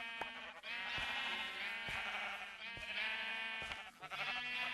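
Several sheep in Minecraft bleat one after another in a quick, overlapping series of nasal calls, fairly close and clear, with soft thumps between them.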